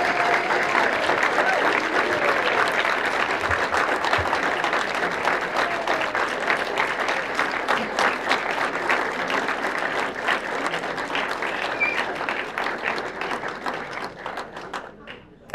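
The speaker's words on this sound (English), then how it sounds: "Please give one big round of applause to Mr." Sustained audience applause fills a banquet room at a youth awards dinner, steady dense clapping from many people that carries for about fifteen seconds before tapering off, with faint talk mixed in underneath.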